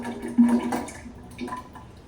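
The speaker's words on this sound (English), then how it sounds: "So I'll pour just about half of the concentrate into" Bone broth concentrate poured into a mug, a brief liquid splash and trickle that swells at the start and then fades into a softer, thinning pour, heard close and alone.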